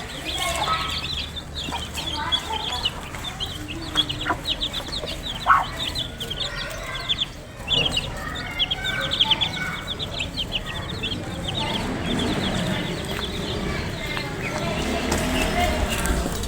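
Backyard chickens and small chicks cluck and chirp near a closed cage. The sound is busy and continuous, with sharper calls scattered through it and rustling underneath, and a voice speaks at times.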